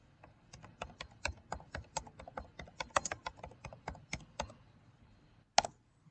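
Rapid, uneven keystrokes on a computer keyboard as a brush name is typed in Photoshop, about five seconds of close clicking that stops, then one sharp final key press after a short pause.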